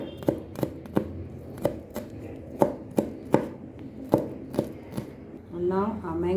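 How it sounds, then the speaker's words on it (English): A knife finely mincing garlic on a cutting board for mango avocado salsa, with about a dozen sharp, evenly spaced chops close up, then a voice starts speaking at the end. "Garlic also finely chopped, minced."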